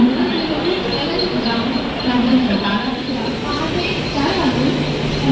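A suburban train pulls into the platform at Dadar station in Mumbai, a steady loud rumble of wheels and carriages with faint squeals, heard up close amid station bustle.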